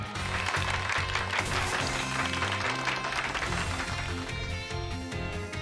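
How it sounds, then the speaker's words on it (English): Applause and clapping in Pokémon Scarlet fill the whole stretch at a moderate level, a dense crowd of hands with background music-like tones mixed in. "Give Pikachu a round of applause, everyone."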